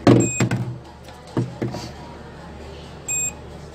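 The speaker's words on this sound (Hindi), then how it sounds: "यानी कि दोनों आपस में बीप भी दे रहे थे" A multimeter's continuity beeper sounds while probing a mobile phone circuit board for a short: two brief electronic tones, one near the start and one near the end, with faint handling clatter between.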